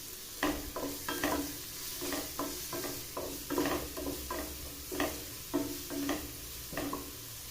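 Onions sauté in a pan, a soft steady sizzle punctuated by regular rhythmic spatula strokes and scrapes close by, without speech.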